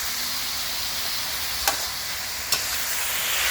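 Bottle gourd is stir-fried in a pan with black pepper, giving a steady hissing sizzle broken by two quick scraping stirs, close and with no voices.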